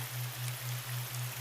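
Steady rain falling as an ambient bed for a romance audiobook, a soft, even hiss with a constant low hum and gentle pulsing swells, no voice present.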